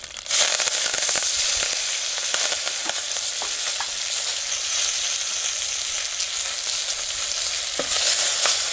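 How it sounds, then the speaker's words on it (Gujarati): Cumin seeds, asafoetida and curry leaves sizzle steadily in hot oil, a loud continuous frying hiss with small crackles and pops throughout, close up and with no talking. "હવે આપણે તેલ ગરમ થઈ ગયું છે તો આ જીરું નાખી દઈએ અને જરાક હિંગ નાખી દઈએ અને આ મીઠો લીમડો"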